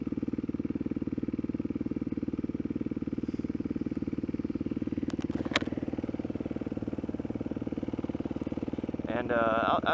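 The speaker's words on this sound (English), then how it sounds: "the old beast, got the Yamaha WR450F" A Yamaha WR450F converted into a supermoto idles with a steady, rapid low thump throughout, close and fairly loud, with a few faint clicks and a brief rise in engine sound near the end.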